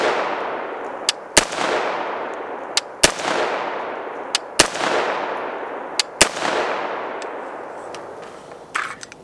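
A 16-inch 5.56 AR rifle with a YHM muzzle brake, loaded with Hornady Frontier ammo, fires several loud, sharp shots, often in quick pairs, each followed by a long ringing outdoor decay.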